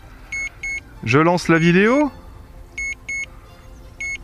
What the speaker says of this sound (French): Et on a un bip rébarbatif.